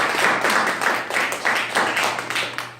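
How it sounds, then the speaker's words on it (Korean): An audience in a lecture hall at an adult education leadership course applauds together, producing rhythmic, pulsing bursts of clapping that sound fairly close, over a low steady hum. "맞다고 생각하시는 분 박수."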